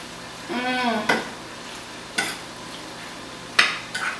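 Macaroni and cheese with basil being tossed and stirred in a pan: a few short scraping, clattering bursts spaced apart, fairly close, with a voice briefly heard between them.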